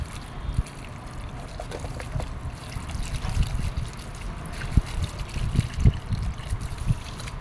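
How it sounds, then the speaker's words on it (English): Water trickles and splashes into a pot over a wood fire, a soft, uneven pour with small irregular spatters, fairly faint and close, with no one talking. "We're adding a little water to it."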